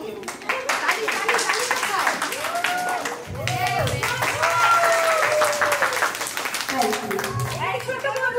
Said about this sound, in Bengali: একটা তালিও দিতে নাকি?